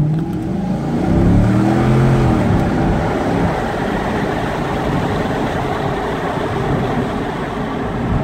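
A 2009 Corvette's engine accelerates in a steady, loud, close roar, with a rising tone in the first couple of seconds before settling into a dense, even drone; no one speaks.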